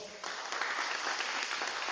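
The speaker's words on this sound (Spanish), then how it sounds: "Un aplauso para ellos, por favor." A church congregation applauds, a dense, steady wash of clapping hands filling the room for a couple of seconds without any voices over it.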